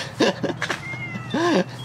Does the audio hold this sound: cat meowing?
yes